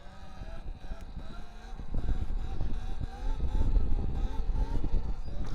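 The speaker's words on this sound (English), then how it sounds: "You can hear there's times I'm getting off the throttle, using the rear brake to catch myself when I go too far back" An e-bike riding a wheelie, its motor whine and tyre rumble rising and falling as the throttle is eased off and the rear brake catches, with uneven surges throughout.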